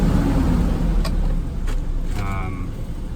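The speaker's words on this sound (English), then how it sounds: "So I'm going to turn on the vehicle." A car being started, a loud low engine rumble running throughout with faint chime-like beeps and a short tonal whine near the end, no talk over it.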